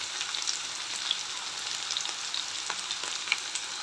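Curry leaves and turmeric sizzle in hot oil in a pan, a close, steady crackling fry with small pops and faint stirring, no voices over it.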